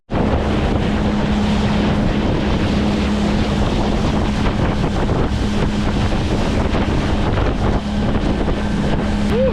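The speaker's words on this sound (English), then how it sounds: "A little bit more wind than yesterday morning, but nothing to be worried about." Steady wind buffets the microphone on a New Zealand island coast one morning, a continuous rushing roar with surf and water noise beneath it and a faint low engine-like hum running throughout.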